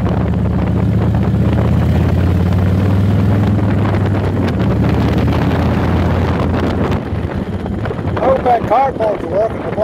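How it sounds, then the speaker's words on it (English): Wind roars past a vehicle on a country road, partly blocked by a piece of cardboard. A loud, steady rushing fills the clip, easing slightly near the end, where a faint voice is heard. "Cardboard's working to block that wind."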